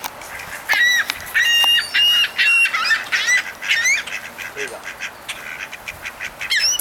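Geese and ducks are being fed by hand, and a flock honks and quacks loudly and close by in repeated bursts, with people talking over the calls.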